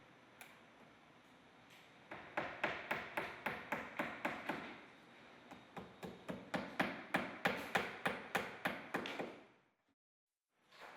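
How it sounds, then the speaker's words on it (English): Hammer strikes nailing a cedar-look siding corner piece to an exterior wall, a steady run of sharp, evenly spaced taps in two close bursts, fairly loud and alone, then stopping. "and nail in place."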